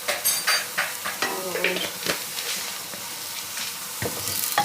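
Cumin seeds fry in a pan with an even, close sizzle broken by several clicking stirs of a utensil against the pan, no speech.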